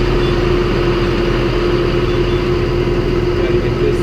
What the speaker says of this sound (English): This tractor warming up here